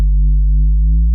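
A synthesized sine-wave wormhole traversal effect built in the Phase Plant synth gives a loud, sustained low hum with steady harmonics and a slight drift in pitch, cut off abruptly after about a second.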